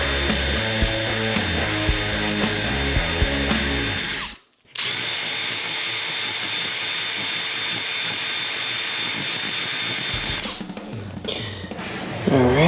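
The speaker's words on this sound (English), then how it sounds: "So I'm going to try to find a drill bit just to take like 1/1000th out of this, out of both of these" A power drill bores into steel front suspension parts on a Fox-body Ford Mustang, running loud and steady near the mic, with a brief stop partway through before the drilling resumes and then winds down.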